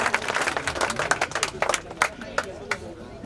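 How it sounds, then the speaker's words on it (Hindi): A seated audience at a voter awareness forum claps to welcome a deputy collector, scattered and uneven hand claps building over the room's background murmur. "उनका बहुत बहुत करतल तालियों के साथ"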